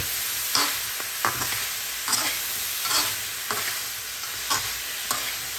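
Zucchini, red pepper and mushrooms stir-fry over high heat for Thai green curry, a constant loud sizzle broken by regular scraping strokes of the spatula about once a second, close up and without voices.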